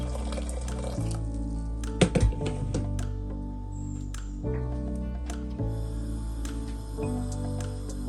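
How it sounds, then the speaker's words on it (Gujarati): Water is poured into a pressure cooker set on a gas stove, making a close, continuous pouring and splashing sound with a brief clatter partway through and a steady hum underneath. "એમાં કુકર મૂકવાનું, એમાં આપણે પાણી નાખવાનું ઉકળતું।"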